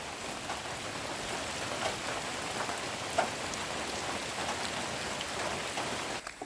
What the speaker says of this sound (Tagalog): Medyo lumakas pa ang ulan, no?